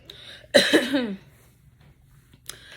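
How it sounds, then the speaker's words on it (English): A single harsh, dry cough bursts out close by, followed by quiet and a faint small click near the end. "It's just a dry cough I cannot control"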